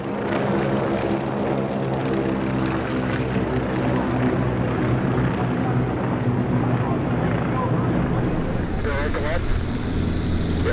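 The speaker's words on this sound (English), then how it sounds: "There are a great many impressive mass warbird arrivals and formations throughout the week, and here are a couple more of them" A formation of vintage warbird propeller aircraft flies past at an airshow, a loud, dense multi-engine drone that holds steady and then shifts as the planes move by, with voices faintly beneath.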